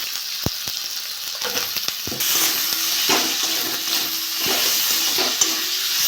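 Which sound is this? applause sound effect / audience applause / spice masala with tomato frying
spice masala with tomato frying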